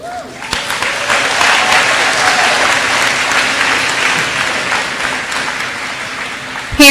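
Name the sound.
audience applauding graduates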